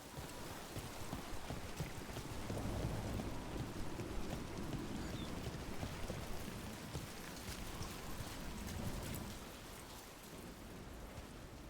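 Steady rain pours down in the fantasy video game Dragon Age: The Veilguard, a dense continuous hiss with some low wind rumble, unbroken and fairly loud for the whole stretch with no talking over it.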